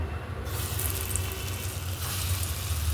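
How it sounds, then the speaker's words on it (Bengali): Small lentil fritters (dal bora) fry in hot oil, making a loud, continuous hiss and sizzle that fills the clip evenly, close up, with no talking. "এরকম ছোট ছোট আকারে আমি দিয়ে এটাকে ভেজে নেব"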